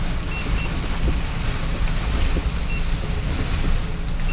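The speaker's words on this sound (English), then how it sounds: "This typhoon is really strong." A strong typhoon batters the area with wind and heavy rain, heard from inside a vehicle as a loud, dense, unbroken roar with no pauses.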